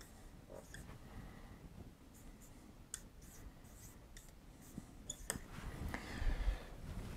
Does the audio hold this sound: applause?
no